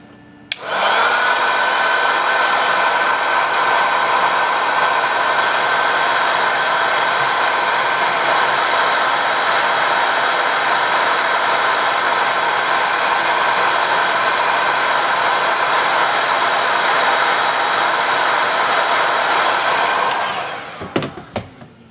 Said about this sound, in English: Gonna use some more heat gun.